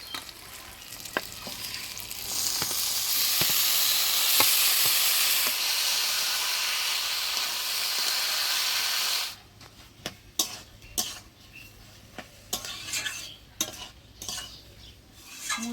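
Banana flower cooked with spices and mashed fried potatoes sizzles loudly in a pan for several seconds. Then the sizzle drops away and a spoon scrapes and knocks against the pan in irregular close strokes.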